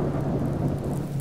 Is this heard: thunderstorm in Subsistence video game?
yes